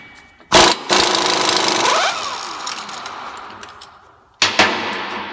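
An impact wrench with a 6-point impact socket removing a 36 mm front axle nut on a Chevy/GMC wheel hub, two loud bursts of hammering with a long whirring rattle between, close up.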